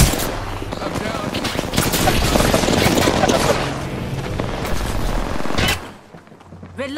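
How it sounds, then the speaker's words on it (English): Sustained gunfire exchange in the Apex Legends video game, dense overlapping shots with game sounds for most of the clip, dropping off near the end. "I'm getting shot at."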